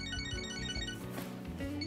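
A phone rings in the video game Catherine Full Body, a repeating electronic ringtone melody over soft in-game background music.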